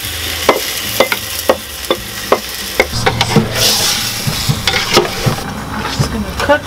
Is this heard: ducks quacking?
no